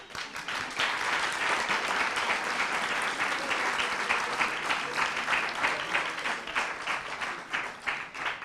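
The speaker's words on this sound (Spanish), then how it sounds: "Aplauden" Audience applause at a humor institute event, with dense, steady clapping that stays at an even, moderate loudness for about eight seconds, no voices.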